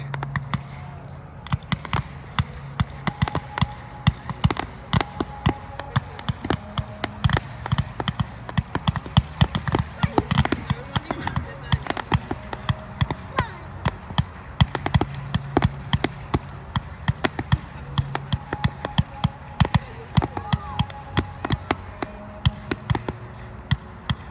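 Firecrackers and fireworks at a StoneX event in London crackle and pop in rapid, irregular bursts, with dense sharp reports continuing throughout at moderate distance.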